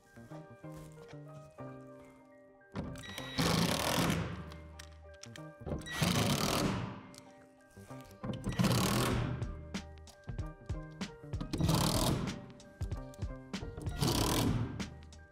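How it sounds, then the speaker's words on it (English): A power driver sets screws into plastic shed wall panels, sounding as about five loud whirring bursts separated by brief pauses and quieter handling clatter. "then secure the 5 screws"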